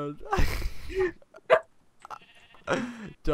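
Sheep bleat in the Minecraft video game during a multiplayer sheep mini-game, short nasal bleats in separate bursts with brief clicks between them.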